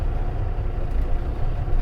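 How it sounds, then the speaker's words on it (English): Trucks with Cummins engines roll past on a road, producing a continuous low, heavy rumble with a steady droning texture and no voices. "Now we have pure rugged trucking sounds"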